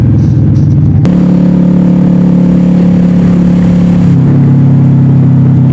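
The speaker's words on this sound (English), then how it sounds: "the sound of that engine braking" An old V-twin motorcycle engine braking, loud and close, its deep steady drone shifting pitch abruptly once and dropping again a few seconds later, with no voices.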